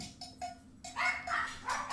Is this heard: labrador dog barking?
yes